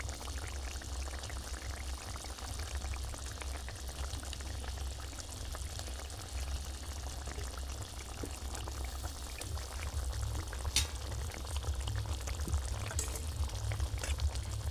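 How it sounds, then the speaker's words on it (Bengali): Fried eggs are dropped one by one into a pan of bubbling restaurant-style egg pepper fry. A steady sizzle and boil runs throughout, with a few soft plops, growing a little louder toward the end. "দেখুন একটা একটা করে আমি ডিমগুলো এর ভিতরে ছেড়ে দিচ্ছি।"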